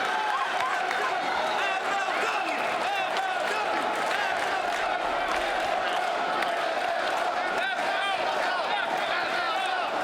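A sold-out crowd at an MLW wrestling match roars and cheers without letup, a loud, dense wash of voices and applause filling the arena.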